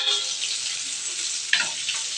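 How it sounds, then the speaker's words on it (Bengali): Fish pieces fry in hot oil, giving a bright, steady close-up sizzle with a sudden louder crackle partway through. "আর দেখো আমার মাছ ভাজাগুলো প্রায় হয়ে গেছে।"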